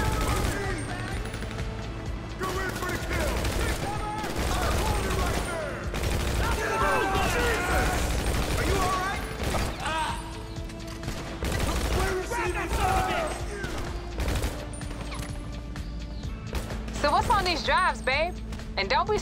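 Sustained gunfire and explosions from a large firefight in GTA V Online, dense bursts running nearly the whole time at a loud, steady level with game voices and chatter over the shooting.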